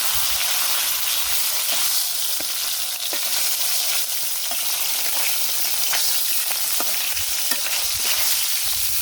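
Fish frying in a pan, a steady close sizzle and crackle running unbroken throughout, with small pops and spatters scattered on top and no talk.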